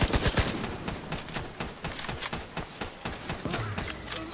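Rapid bursts of snowball-gun fire in The Division 2 co-op, a dense run of sharp shots through the whole stretch, loud and continuous, mixed with other game effects and no clear speech.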